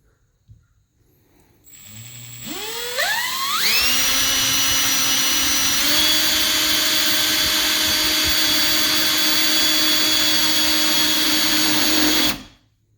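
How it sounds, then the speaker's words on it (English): A power drill running a center drill bit into a steel mower hitch spins up in rising steps to a high, steady whine. The whine holds loud and close for about nine seconds, then cuts off abruptly. "Start out a little bit slow on this center drill."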